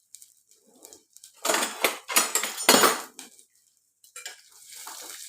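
Curry leaves and onion being stirred in a pan with a metal utensil, a close run of sharp clinks and scrapes against the pan, louder in the middle, with a softer sizzle toward the end.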